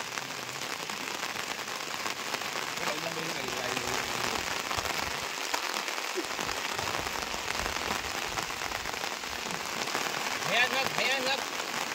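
Heavy monsoon rain pours near a river and flooded fields in the Konkan, a dense, loud, continuous hiss of drops hammering surfaces with no letup, and faint voices come through in places.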